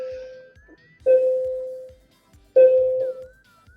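A bell rings twice with clear sustained tones, each strike ringing out and slowly fading, separated by a short pause, with faint background sounds between.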